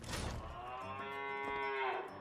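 A cow in the video game Conarium lets out one long, low moo with a rising tail, fairly faint and heard alone.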